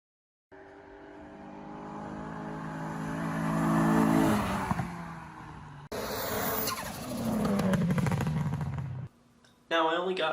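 Race cars at a hill climb finish line, engines rising loud as they approach and pass close by, one after another with short breaks between, while a voice talks faintly over them.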